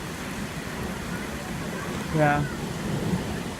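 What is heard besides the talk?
heavy rainstorm flooding the streets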